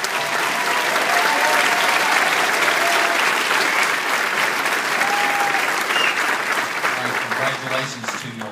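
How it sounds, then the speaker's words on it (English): An audience at a class of 2012 high school graduation ceremony claps in a sustained, dense round of applause, loud and steady throughout with a few cheers, tapering slightly at the end. "One more round of applause for our class of 2012."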